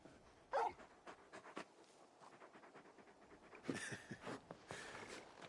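A very large dog in the video game Final Fantasy XVI pants in quick, soft breaths with a few louder puffs and faint whimpers, close and fairly quiet throughout.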